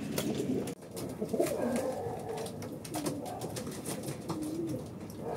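Racing pigeons cooing steadily at close range while being loaded into baskets for a race, soft overlapping coos with rustling and handling noise, no speech.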